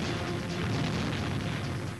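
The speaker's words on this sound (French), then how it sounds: "Explosion de flammes." A loud, sustained roaring burst of flames from a racing crash, filling the whole stretch with dense rumbling noise and no talking.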